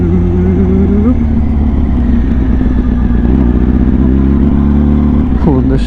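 A motorcycle engine idles and revs close by, steady and loud throughout with a brief shift in pitch near the end.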